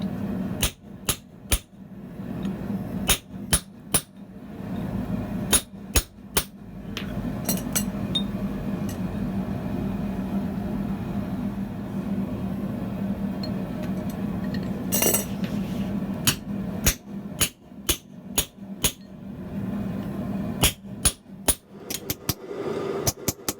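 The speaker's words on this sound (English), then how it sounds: "I use this very steeply tapered punch to open the hole wider to make slitting a little bit easier." A hammer strikes a steeply tapered punch to widen a hole in hot forged steel while making a fuller, giving sharp ringing metallic blows in irregular bursts over a low background hum, with a brief louder hiss midway.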